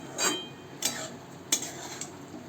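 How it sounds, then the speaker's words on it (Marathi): Spoon scraping and clinking against a pan while Kolam rice is stirred into fried vegetables, four distinct metallic strokes spaced about every half second over a faint background sizzle. "तांदूळ टाकल्यानंतर व्यवस्थित सगळीकडून मिक्स करून घ्यायचं"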